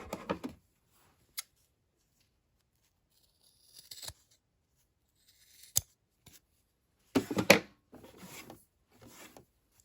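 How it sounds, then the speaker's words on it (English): Scissors cut through fabric backed with interfacing for DIY key fobs in a quiet room, giving a few sparse, crisp snips and short crunchy cuts spread out over the quiet. "I'm going to just cut this and make sure it's perfectly straight."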